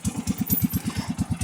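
Small mower engine on a go-kart race mower running at a steady idle, its even low chugging pulses close and continuous.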